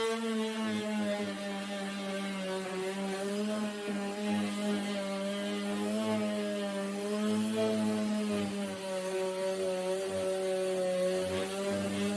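A power sander with 60-grit sandpaper whines steadily on an old wooden dresser, a continuous motor drone with a slightly wavering pitch, loud and close, with no talking.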